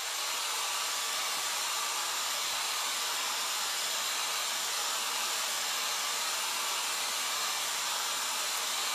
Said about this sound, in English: I'm using the cool setting on my blow dryer because it's so close to the transfer